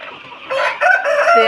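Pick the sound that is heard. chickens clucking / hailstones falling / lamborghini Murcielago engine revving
chickens clucking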